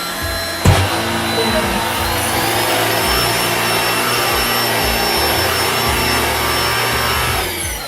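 Black and Decker rechargeable handheld vacuum cleaner picking up crumbs, a loud steady motor whine and airflow roar running nearly the whole time after a brief click at the start.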